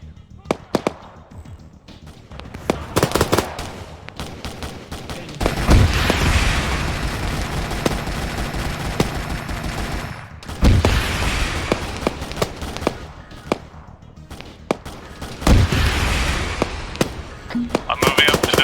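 Bursts of rifle gunfire in the military game ARMA during a night operation, loud rapid volleys and repeated shots in several clusters, with occasional voices.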